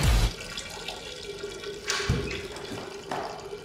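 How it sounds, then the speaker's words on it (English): Urine streams into toilet bowl water in a high school movie scene, a quiet splashing trickle after a brief thump at the start, with a few faint clinks. "listen to my urine hit the water."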